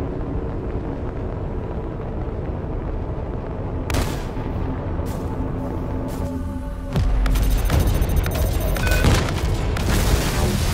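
An enemy ship blows up in a space combat video game, a steady roar of loud booming gunfire that breaks into sharper crackling blasts and a heavier rumbling detonation partway through, with no voices.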